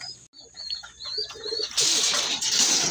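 Racing pigeons coo repeatedly in soft, rising calls during feeding, followed by a burst of rustling and fluttering noise.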